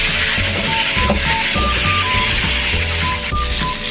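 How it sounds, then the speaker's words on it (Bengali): Potato, papaya and taro chunks fry in hot oil with a steady, dense sizzle, and repeated soft scraping thuds from stirring run throughout. "আলু, পেঁপে এবং কচুটাকে ভালো করে তেলের সাথে ভেজে নেব।"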